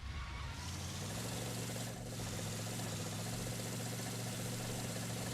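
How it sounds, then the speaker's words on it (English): A vehicle engine in the ArmA Reforger video game runs at a steady, rough, labouring drone, as if about to throw a rod and low on oil, loud and continuous throughout. "Sounds like it's about to throw a rod through the side of the engine."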